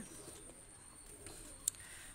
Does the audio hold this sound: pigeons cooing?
yes